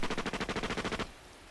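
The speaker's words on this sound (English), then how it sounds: "he heard the first sounds of gunfire" Rapid burst of about ten evenly spaced shots from an automatic weapon in a visual novel video game, loud and close, cutting off abruptly into quiet.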